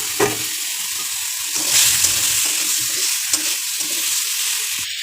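Chicken legs hit a pan of sizzling fried spice paste, setting off a steady, close hiss of frying with a few sharp clinks and scrapes, no talking.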